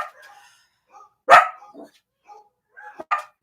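Household dogs bark in a home: a few sharp, close barks and yips spaced out by short quiet gaps.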